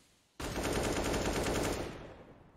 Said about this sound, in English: movement from Dozier, just skidding on by, takes the headshot, and this time there's no trade from Virtus Pro.